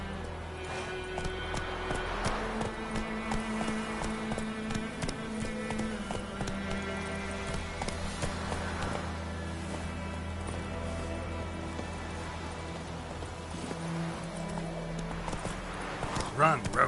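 The horse Roach gallops in The Witcher 3, with rhythmic hoofbeats running steadily under layered game music and ambient tones throughout.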